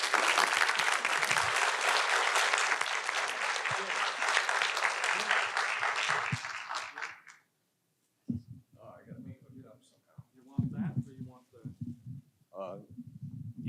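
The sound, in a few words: audience applause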